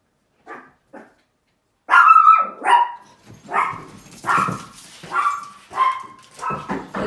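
Several dogs bark indoors, loud and near, starting with two faint yips then a run of sharp repeated barks and whimpering yelps spaced through the stretch, with no talking.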